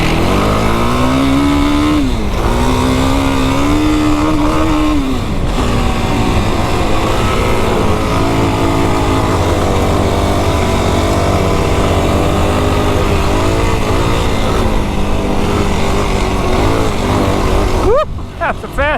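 A stock 2025 Yamaha YFZ 450R ATV engine revs hard on sand dunes, climbing and holding high through the gears in one long, loud pull that rises and falls with each shift, with a brief voice heard only faintly in the mix.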